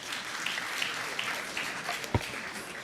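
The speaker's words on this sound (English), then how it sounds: "There is no clapping of hands in Parliament." Scattered applause from members in a parliamentary chamber during a national budget speech, a brief, fairly faint patter of clapping hands with a single thump near the end.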